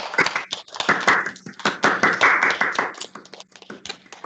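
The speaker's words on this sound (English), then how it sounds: "let's give her a round of applause" Clapping for Isabel at a school assembly, uneven bursts of hand claps from a small group, close and moderately loud, with brief pauses between flurries.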